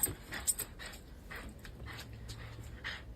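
A dog whines and pants in short, soft, breathy bursts inside a home during a training session, with faint jangling at the start and a low, steady background hum.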